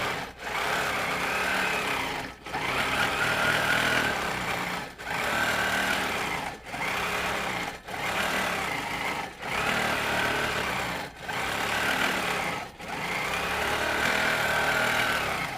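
A quilting sewing machine stitches with orange thread in steady bursts of loud, continuous whirring, broken by short pauses every couple of seconds, with no talking over it.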